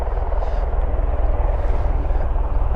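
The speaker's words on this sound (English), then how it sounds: "Hercules taxiing around the back, so we may see that take off." A Hercules aircraft taxis at an airport, its propeller engines a loud, steady, low throbbing drone that holds at close range throughout.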